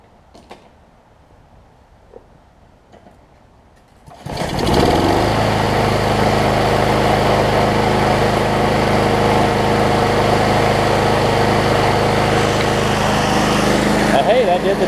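A Troy-Bilt push mower with a Briggs & Stratton 5 hp Quantum engine starts after about four seconds of quiet handling clicks, then runs at a loud, steady, droning idle until the end.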